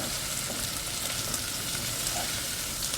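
Onions and garlic fry in a pan, giving a steady, dense sizzle that holds even and close throughout with no talking.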